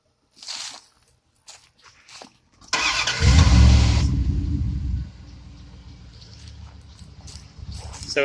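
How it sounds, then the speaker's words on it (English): A 1996 Dodge Ram Van engine cranks and catches with a loud rumbling burst, then settles into a steady low idle, preceded by a few faint clunks and movement sounds nearby. "So it's starting and idling well."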